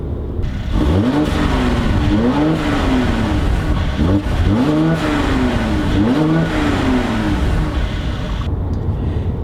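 A Mercedes C400 4MATIC BiTurbo V6 engine revs up and falls back about four times in a row, each sweep loud and close with a throaty rising note, then a quieter idle at the end.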